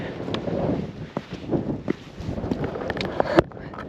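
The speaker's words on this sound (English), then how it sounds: "It's a bit windy, it's a bit airy" Gusty wind on an exposed knife-edge mountain ridge buffets the microphone in uneven rumbling bursts, with a few sharp knocks and rustles close by.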